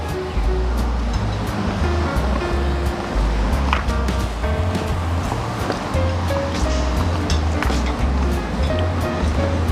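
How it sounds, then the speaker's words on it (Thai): Steady surf at the beach beside a hotel infinity pool at Andaz Pattaya, a continuous washing roar of waves with no speech over it. "ก็มาถึงบริเวณสระว่ายน้ำนะคะแล้วก็ชายหาดกันแล้วค่ะ"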